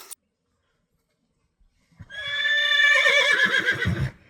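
A horse at a ranch pet area lets out a loud, close whinny lasting about two seconds, quavering and trailing off into lower snorting tones after a stretch of silence.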